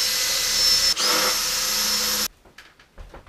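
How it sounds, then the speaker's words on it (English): During a boat refit, a tiny screwdriver drives small screws into wood with a steady whirring whine for about two seconds, briefly dipping, then gives way to a few quiet clicks and handling noises. "Tiny little screws driven with a teeny, teeny, tiny little screwdriver."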